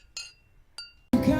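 Beer glasses clinking together in a toast, two bright, separate chimes, followed by music suddenly starting loudly.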